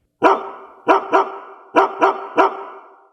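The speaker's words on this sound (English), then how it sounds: "It's the bark heard round the world." A dog gives six sharp, loud barks close by, first a single bark, then a pair, then a quick run of three, each followed by a short ringing tail.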